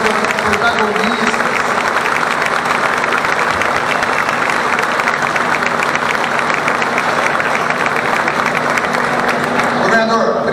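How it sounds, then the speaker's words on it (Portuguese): Sustained applause from a large audience honoring athletes at a sports program launch event in Campo Grande, loud and steady throughout with a faint tonal hum underneath. "eu gostaria de pedir a todos uma salva de palmas para os nossos atletas"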